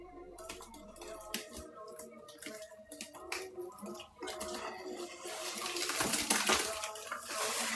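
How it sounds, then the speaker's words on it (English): Thick laundry paste being mixed and splashed, giving wet sloshing, dripping and squelching sounds that grow denser and louder toward the end, heard up close without talk. "Like right now, it is splashing everywhere."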